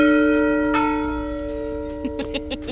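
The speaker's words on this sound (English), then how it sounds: "You want to ring the bell and let them know you're here?" A bell at the main entrance of the Hills and Dales Estate in LaGrange, Georgia, rings once with a loud, sustained metallic tone that slowly fades, followed by a few light clinks.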